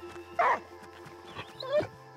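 A dog in the video game Last Day of June gives two short barks, the first near 0.4 seconds and the second near 1.8 seconds, over a quiet, steady game soundtrack.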